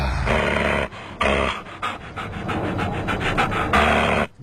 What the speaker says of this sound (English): Good one, Scott, but you freaked out my dog